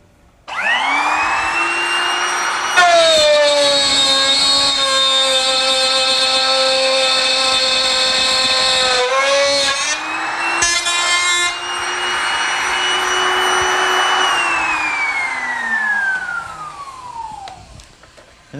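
A router cuts wooden drawer stock in a woodworking shop, a loud close whine that spins up, holds with a shifting pitch through the cut, then winds down as the motor coasts to a stop.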